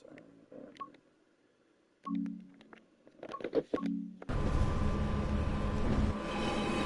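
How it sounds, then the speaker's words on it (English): Train Sim World 5 railway simulation, a few soft alert tones and chimes at first, then a loud broadband train rumble and running noise that sets in abruptly and continues steadily to the end. "I believe that the train is a bit loud"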